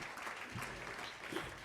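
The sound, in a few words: polite golf clap from audience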